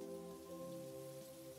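Rain from the farming game Monster Harvest, a soft steady patter of drops, faint and continuous beneath a sustained tonal music drone, with no talking.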